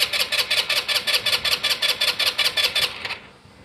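The starter motor of an Ice Bear vehicle cranks without the engine catching, a fast steady whirring chug of about a dozen even pulses, close and loud, then cutting off into quiet.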